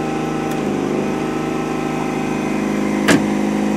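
A 2007 Ford Fusion demolition derby car's engine idles with a steady low rumble, close up and unchanging, with a couple of brief clicks over it.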